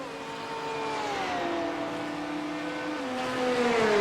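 GT3 race cars, including a Porsche, race at Fuji Speedway in a sim racing game, their engines droning steadily with rising and shifting pitch as they accelerate, one car swelling louder near the end.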